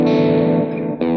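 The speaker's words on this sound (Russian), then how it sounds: "Хорошо, включаем перегруз." An electric guitar played through overdrive in Overloud TH2 amp-simulation software rings out as a single sustained distorted chord, loud and close, decaying briefly before a second strum hits near the end.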